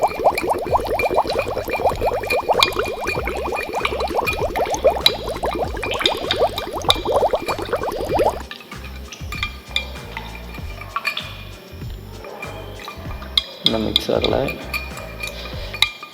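Powdered pH calibration buffer is stirred into a cup of water for a hydroponics meter, a quick rhythmic clinking and swishing that runs steadily for about eight seconds and then turns to sparse, softer taps.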